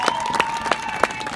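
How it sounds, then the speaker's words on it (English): Applause and cheering from a crowd gathered to watch a marching band's end-of-August band camp run-through, with scattered claps rising in bursts over a steady crowd murmur. "look at this crowd that came out to watch at the end of August band camp run through"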